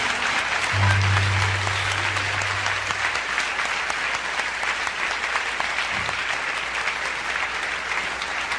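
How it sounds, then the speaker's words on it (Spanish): A church congregation applauds with steady, dense clapping that holds evenly for several seconds, with a low hum sounding briefly near the start. "Él merece un aplauso."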